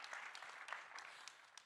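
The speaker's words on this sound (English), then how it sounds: "Round of applause." A panel discussion audience gives brief, faint applause, a soft patter of scattered hand claps heard from a distance for a couple of seconds.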